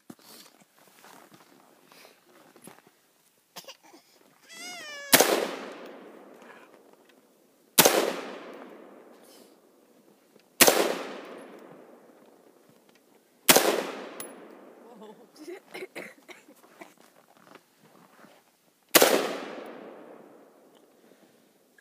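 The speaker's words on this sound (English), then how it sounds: "You're shooting high, David, just about a foot up." AR-15 rifle fired outdoors, five sharp loud single shots spaced a few seconds apart, each ringing out in a decaying echo, with brief talk and light handling noise between them.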